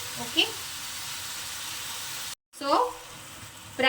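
Prawn fry cooking in a pan gives a steady low sizzle that drops out briefly, then returns with stirring clatter, with some speech-like sound mixed in.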